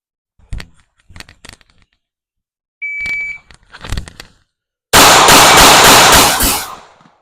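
A Smith & Wesson Bodyguard 2.0 .380 pocket pistol fires at a shooting range. Several sharp, loud shots come in uneven spacing, with a brief electronic timer beep partway through, then a longer, louder burst of noise near the end.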